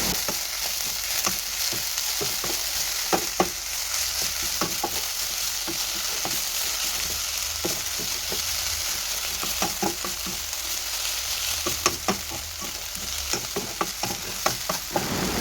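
Sambar cheera spinach stir-fry is stirred in a hot pan: a constant sizzling hiss with irregular clicks and scrapes of the spoon against the pan, close and fairly loud.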